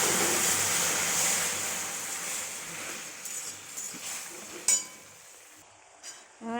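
Boiled helencha greens tipped into a hot frying pan, a broad steady sizzle that fades toward the end, with a few sharp clinks of a utensil against the pan.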